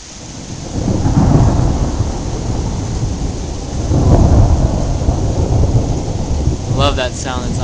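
Heavy rain pours steadily while thunder from a lightning storm rumbles loudly overhead in long rolling swells, with a brief voice near the end.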